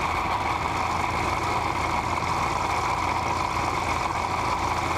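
A walk-behind weed eater engine running at full throttle while mangling weeds, a loud continuous close-up drone with a steady buzzing tone and no letup, no voices.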